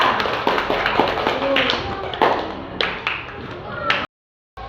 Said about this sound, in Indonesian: Tepuk tangan buat kelompoknya Siva.